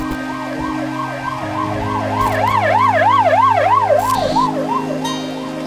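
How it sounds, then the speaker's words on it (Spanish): A medical ambulance's wailing siren rises and falls in fast, even cycles as it pulls away, loud and close with engine rumble underneath and no one talking. "Sae ambulancia medicalizada para a zona"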